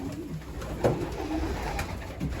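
Racing pigeons cooing in a breeding loft, soft low coos repeating at moderate distance over a quiet background with a few light knocks.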